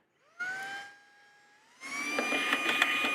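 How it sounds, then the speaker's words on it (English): A small portable vacuum cleaner whines at high pitch while cleaning out a secondhand thrift-store item, revving up, easing off and surging again, with a rattling hiss as it pulls debris in. "I guess the first thing we're gonna do is vacuum this bad boy out"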